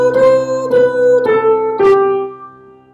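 A solo voice sings the four notes of the second tetrachord of a melodic minor scale, each a clear sustained sung pitch in a steady stepwise sequence, close and fairly loud with no accompaniment.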